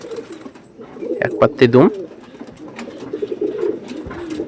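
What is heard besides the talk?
pigeons cooing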